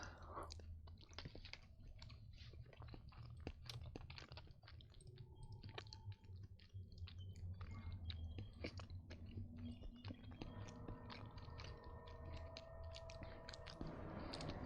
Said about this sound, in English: I'm gonna chew the hell out of this shit.